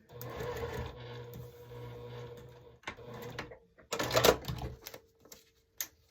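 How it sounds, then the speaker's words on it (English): A sewing machine stitches flying geese quilt block pieces in uneven bursts of rapid mechanical whirring, with a louder, denser run near the end and short pauses between. "Bring it back over, sew on the line."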